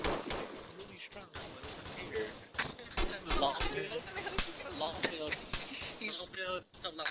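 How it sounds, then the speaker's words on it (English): Gunfire in the Arma 3 co-op military shooter, a dense run of sharp shots and bursts with louder cracks through the middle, mixed under excited voices talking throughout. "I called it gunfire."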